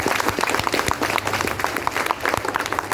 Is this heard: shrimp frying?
no